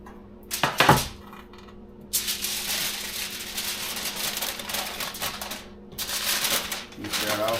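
Rattling metal clatter of a Big Green Egg roasting pan being handled and prepped, bursts of scraping and clinking with brief pauses, close by, and a voice speaks at times.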